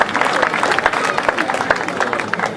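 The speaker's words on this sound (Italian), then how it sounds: "Grazie pubblico, aiutateci con il vostro applauso." Audience applause at a literary and songwriting contest award ceremony, many hands clapping in an irregular, fairly loud patter that fills the hall with crowd murmur beneath.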